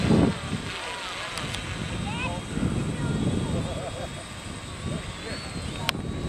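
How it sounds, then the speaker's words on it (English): Small drones whine thinly overhead at a smokestack demolition site, a faint steady hum that shifts pitch slightly, heard beneath gusty wind noise and nearby people talking. "Those are drones."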